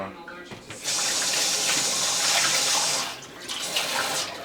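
Water runs from a kitchen sink tap while dishes are washed, a steady close gush that starts about a second in, eases near the end and then resumes.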